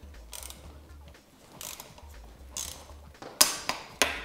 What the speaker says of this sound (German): Jetzt muss man nur noch Kurbelarm festhalten und die Kurbelschraube mit dem entsprechenden Drehmoment